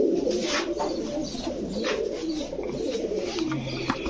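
Prince Kamargar and Royal Teddy pigeons coo repeatedly at close range, soft rolling calls layered over a busy background murmur with no clear talk.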